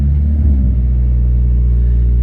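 A turbocharged Honda Civic with a D16Y7 engine idles high and steady at close range, its loud, low rumble holding a raised rev while warming up with the air conditioning on.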